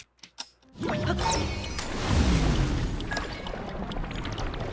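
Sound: Recall ability on water droplet, video game Zelda: Tears of the Kingdom

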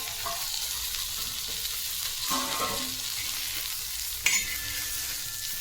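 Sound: stuffed okra being sautéed in pan

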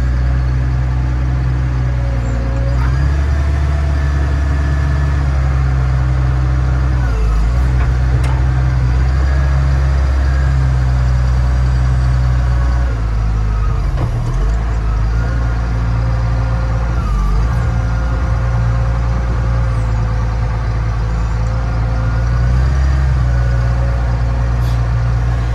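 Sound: Komatsu WA420 wheel loader lifting and tipping its bucket

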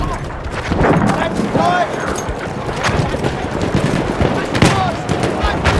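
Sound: gunfire in the video game Battlefield 1

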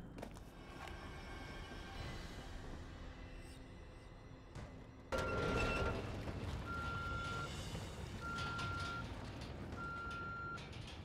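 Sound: beeping sound in The Evil Within video game

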